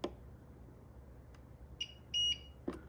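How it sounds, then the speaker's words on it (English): A UPS battery backup unit with its batteries removed gives a few short electronic beeps, one slightly longer, sounding fairly faint against a quiet room. "that shuts the beeper off"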